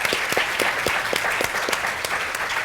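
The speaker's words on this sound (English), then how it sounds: "please give a round of applause to Deirdre Daly" Audience members applaud as Deirdre Daly is introduced at a talk on pregnancy and childbirth, a steady crowd clapping with a few distinct nearby claps standing out in a fairly sparse rhythm.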